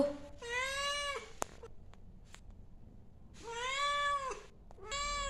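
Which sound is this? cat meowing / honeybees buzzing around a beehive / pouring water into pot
cat meowing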